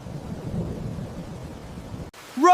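Rain falls in a steady wash with a low thunder rumble as a storm begins, ending abruptly in a brief sharp rise.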